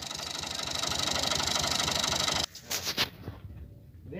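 A Massey Ferguson MF 260 tractor on a farm with balers, its engine running at a steady, close idle with a dense mechanical chatter that cuts off abruptly halfway, leaving a few knocks and faint outdoor noise.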